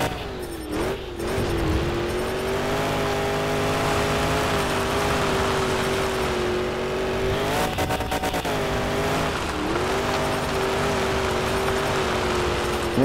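Monster truck engine in the Monster Jam Showdown video game, a loud sustained revving drone that rises and dips in pitch as the truck accelerates, with brief tire squeal and bumps, no talk.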